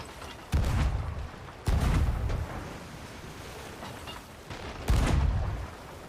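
Cannon shots in RuneScape 3 boom out three times at irregular intervals, each a loud low blast with a rumbling tail, over a constant washing background like sea surf.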